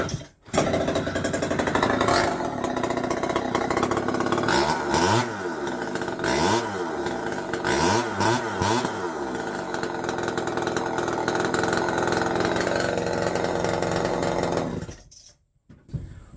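A Homelite XL 101 chainsaw runs in a shop, loud and close, with a steady buzzing two-stroke drone that revs up and down several times before cutting out near the end.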